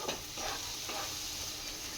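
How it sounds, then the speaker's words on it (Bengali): Spice paste of coriander, cumin and chilli powder frying in a pan for a mutton curry, a steady faint sizzle with a few soft stirring scrapes, no speech. "মশলাটা আমার কষানো হয়ে গেছে"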